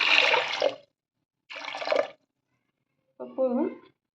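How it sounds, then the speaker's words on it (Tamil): Water is poured over soaked chickpeas in a cooking pot in two short, splashy pours with a pause between them, and a voice speaks briefly at the end. "இந்த கடலை வந்து மூழ்கரம்ட்டு தண்ணி ஊற்றினா போதும்"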